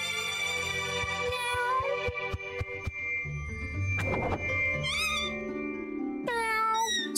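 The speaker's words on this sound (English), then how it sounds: "There's a big fat cat down there. He wants to eat us." A cat meows in the video game Just Crow Things, rising tonal cries set against game music with plucked notes and a low rumble, and the meows repeat toward the end.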